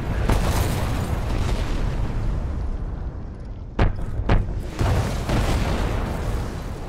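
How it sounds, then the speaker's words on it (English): An artillery strike explodes in Call of Duty Modern Warfare Remastered: loud deep rumbling booms with two sharp crack-like bursts midway, followed by rolling low-end blast noise that sustains to the end, with no talking. "Fucking love that explosion."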